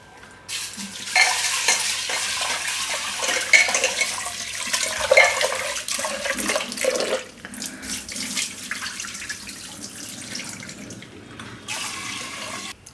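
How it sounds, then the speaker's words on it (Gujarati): Urad dal being rinsed in a pressure cooker under running tap water, a steady close splashing and trickling stream with sloshing as the lentils are swirled, continuing throughout with no talk. "તો દાળને આપણે ધોઈ નાખીશું"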